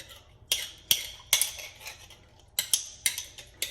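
A spoon's back scrapes and knocks sauce out of a narrow-mouthed bottle for oven jerk pork, giving a series of sharp, bright metallic clicks and scrapes in irregular bursts, close up against a quiet background.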